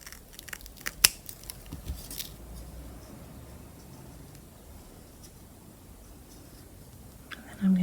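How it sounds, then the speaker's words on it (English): Scissors trimming the loose thread ends of a handmade beaded bracelet, a few quiet close snips near the start, then mostly low background with faint handling. "I'm just going to trim it back a little bit more."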